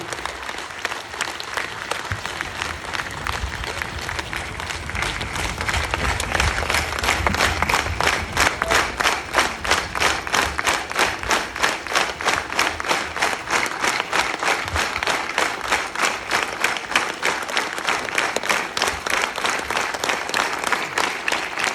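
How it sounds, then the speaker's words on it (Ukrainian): An audience claps at length, the applause swelling after a few seconds into a loud, sustained, evenly dense wash of clapping that holds to the end with no voices on top. "тобі аплодують"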